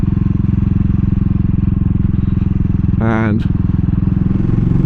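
A 2022 CCM Spitfire Bobber motorcycle engine idles while warming up, a steady close, loud throbbing pulse throughout, with a brief voice cutting in over it partway through.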